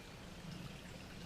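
Clean water pushed by syringe back through a camping water filter makes a steady, close trickling stream for about a second, with no voices.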